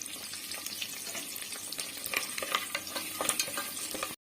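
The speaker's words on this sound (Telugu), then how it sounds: "ఇప్పుడు కరివేపాకు క్యారెట్ కూడా వేసుకుని ఫ్రై చేసుకోవాలి." Curry leaves and carrot frying and being stirred in a pan for village-style pulao, a steady close sizzle with scattered scraping and stirring clicks throughout, no talking.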